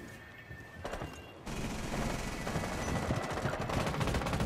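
Automatic gunfire in Rainbow Six Siege at the Hereford Base map, quieter shots at first, then a loud sustained volley of rapid overlapping rounds filling the rest, close and dense.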